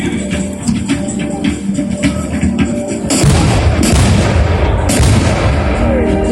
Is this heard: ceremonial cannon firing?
yes